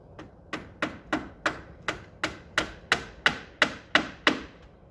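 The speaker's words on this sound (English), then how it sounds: "We're tacking down the metal with aluminum nails" About a dozen evenly spaced hammer blows drive aluminum nails into roof metal, each strike a bright, ringing metallic tap in a steady rhythm, close and clear with no talking.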